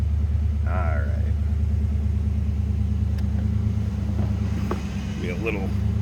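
A 1991 Ford Mustang LX convertible with a 5.0 V8 idles close by, its steady low rumble running throughout while someone talks briefly over it near the start and again near the end.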